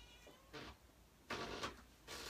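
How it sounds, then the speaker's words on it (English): A shy cat sitting just outside a door meows a few times, short faint cries spaced apart in a quiet room. "She's sitting outside the door meowing at me."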